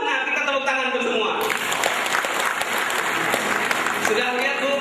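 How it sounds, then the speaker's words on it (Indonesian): Audience applause at an Indonesian motivational talk on positive thinking, steady dense clapping that swells louder partway through and continues to the end, filling the room with a few voices mixed in. "Kita tepuk tangan tuh semua."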